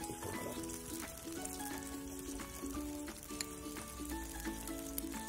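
Chicken pieces frying for a curry, a faint continuous sizzle running under steady background hum and occasional light clicks in the pan.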